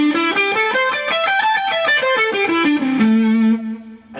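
Distorted electric guitar plays quick blues lead licks up and down a position 5 scale, a fast run of single notes ending on a held bend, loud and close.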